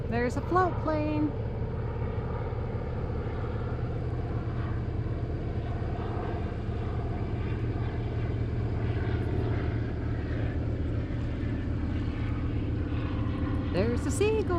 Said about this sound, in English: There's a float plane.